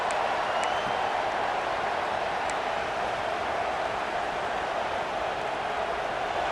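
A stadium crowd in the EA Sports College Football 26 video game gives a sustained, loud roar of cheering that holds steady throughout, with no break.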